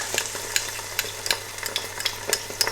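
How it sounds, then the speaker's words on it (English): Desi ghee added to sizzling palak paneer, a steady close crackling sizzle with light stirring clicks throughout, no voices. "I'm just going to add Desi ghee to it."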